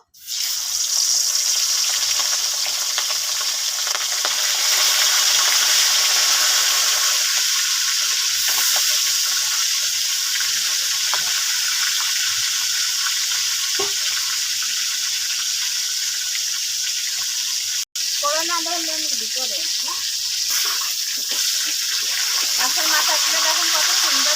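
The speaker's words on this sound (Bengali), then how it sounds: "আমি হচ্ছে মাথাগুলো ভেজে নেবো" Fish heads coated in salt and turmeric hit hot oil in a kadai and fry with a loud, continuous sizzling hiss that stays dense and steady; brief clatter and rustles come near the end.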